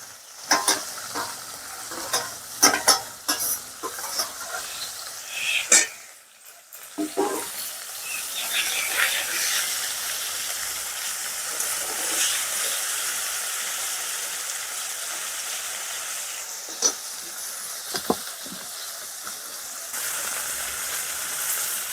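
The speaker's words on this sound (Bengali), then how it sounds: "বাকি মাছগুলো ভেজে নেব" Katti fish frying in a pan, a steady close sizzle with bursts of spattering and stirring clatter early on, then an even hiss that continues to the end.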